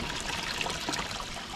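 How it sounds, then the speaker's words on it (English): Water pours steadily into the reservoir of a swamp cooler holding almost 3 gallons, a continuous close trickling and splashing with no talk. "We're gonna fill up the reservoir on the swamp cooler with this water right here."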